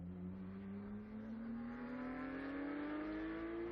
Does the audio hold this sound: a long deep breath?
no